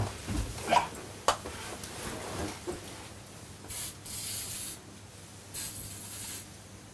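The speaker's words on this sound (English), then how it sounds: "we spray hair for you" Several short hissing bursts of hair spray from an aerosol can, close by, separated by brief pauses, with a few light knocks earlier.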